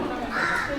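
A crow cawing near a riverside landing in Vaikom, a single drawn-out harsh call, fairly close against a soft background.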